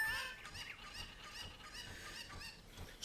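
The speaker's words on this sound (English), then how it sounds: "Oh no! Link stole one of my chickens." Chickens cluck and squawk in The Legend of Zelda: Ocarina of Time Master Quest, a burst of high, bright game bird calls repeating steadily for about three seconds at close, moderate level.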